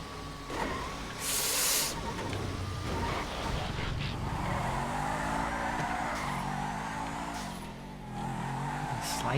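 Car drifting with squealing tires in the GTA FiveM driving game, a continuous engine roar with sliding tire noise and shifting revs, loud and steady throughout the run.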